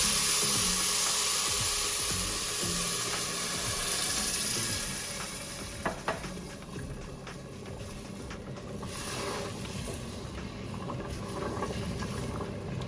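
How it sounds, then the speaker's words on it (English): Water pours steadily into a pot holding two cups of rice for an Ecuadorian chicken stew, a broad watery rush that fills the first several seconds and then settles into a softer swirl, with a couple of faint knocks midway. "we're gonna add 4 cups of water to 2 cups of rice."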